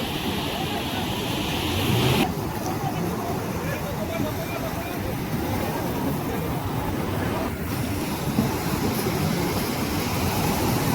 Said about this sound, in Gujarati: જો મિત્રો કેટલા મોજા ઉછળે છે